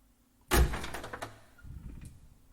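A door opening as a radio drama sound effect in a gothic scene: a sudden, close thump and scrape as it swings, followed by a softer rumbling settle, with near silence before.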